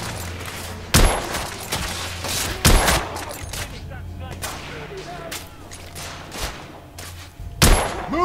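Heavy gunfire in the video game The Order: 1886, with sharp shots cracking at irregular intervals and several louder blasts over dense background combat noise.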